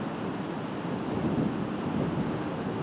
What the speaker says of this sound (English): It's gusting and it's swirling, and it's a tough wind to read right now